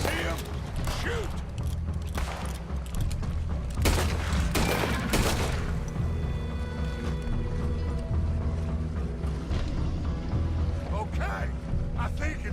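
Gunfire in Red Dead Redemption 2 during a Saint Denis chase: bursts of shots and clattering mechanical noise over a rumbling background, with characters shouting and talking throughout.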